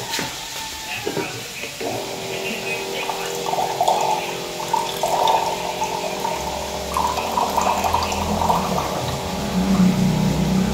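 One cup of water runs and splashes steadily into a cooking pot of bamboo shoots for several seconds, with a faint hum and some background noise underneath.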